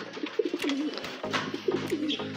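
Racing pigeons coo in soft, rolling bursts nearby as they arrive home from a derby race, with a few flutters and light knocks between calls.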